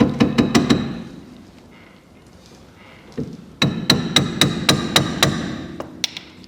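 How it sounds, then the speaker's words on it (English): A hammer strikes a wheel cylinder bolt on an old Austin A30 barn find, two quick bursts of sharp metallic blows, about six, then a pause and about nine more, loud and close. "I don't want to whack it, but it might need a little."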